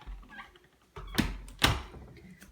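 A small apartment bedroom door swings and shuts, a couple of close wooden thumps and a latch click over quiet room tone.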